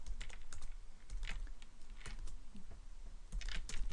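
Quick bursts of keystrokes come from a computer keyboard as code is typed, irregular taps clustered in short runs, close and fairly quiet, with no speech.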